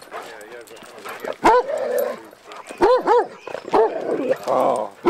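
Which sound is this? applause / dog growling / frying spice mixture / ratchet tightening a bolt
dog growling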